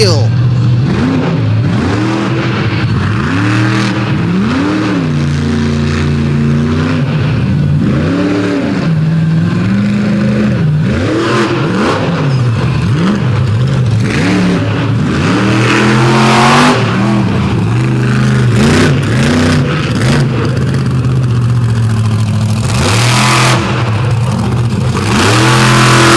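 A big Dodge monster truck's engine roars and revs hard at an outlaw monster truck drag race, its pitch climbing and dropping in repeated surges, loud and continuous, with an announcer talking over it throughout.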